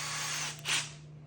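Power drill boring a small starter hole with a pilot bit while fitting a pulse fitting on a Predator 212 engine; a steady close whirring hum with a brief louder surge partway through, no voices.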